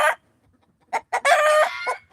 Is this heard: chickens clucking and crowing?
yes